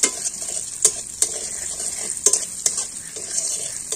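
Paneer sizzles steadily in hot oil while a utensil stirs it, with sharp scrapes and taps against the pan every second or so.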